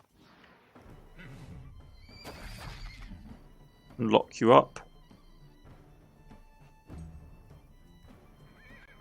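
In the medieval strategy game Wartales, a horse whinnies loudly in two sharp bursts amid soft hoof clip-clops and thuds, with someone talking over parts of it.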